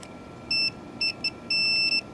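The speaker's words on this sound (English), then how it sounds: "when these 2 probes touch, I get a sound" Multimeter on continuity setting beeping as its probes touch during RV power cord troubleshooting: several clear electronic beeps of varying length, some short and some sustained, over quiet background, no talking.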